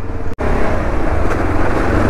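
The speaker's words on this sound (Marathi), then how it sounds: "आई शपथ कसलं भयानक ट्रॅफिक आहे बघा ना." Road traffic on the Mumbai-Goa highway, with a near motorcycle engine's steady rumble amid surrounding vehicles, loud and continuous apart from one brief dropout.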